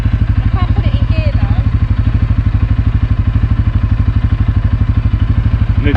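A van engine chugs loudly in a fast, even pulse, close up and steady throughout, with faint clattering as the driver struggles to find a gear, and voices talk over it.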